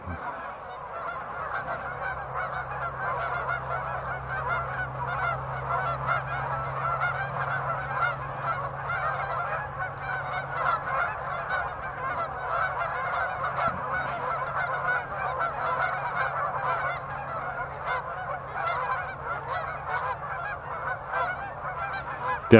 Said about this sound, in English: Definitely the East Field's got a lot of birds in it right now.